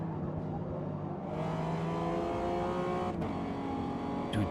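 Toyota Camry TRD engine in Forza Motorsport, heard from the cabin: a steady, loud droning hum with rising harmonic tones as the revs climb partway through, continuous and without talk.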